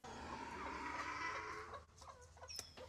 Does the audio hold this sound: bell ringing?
no